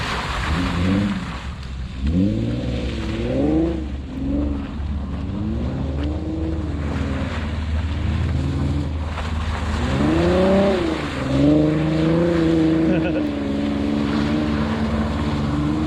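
An Infiniti Q50 Sport with all-wheel drive spins donuts in snow, its engine rising and falling in repeated swells, nearby and fairly loud over a steady low rumble.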